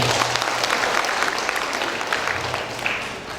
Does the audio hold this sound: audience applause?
yes